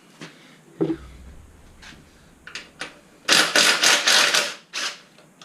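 A rifle bolt eased back a short way, giving a sequence of dry metallic clicks and ratcheting scrapes, with a dense burst of rattling clatter in the latter half, close and fairly loud with no talking.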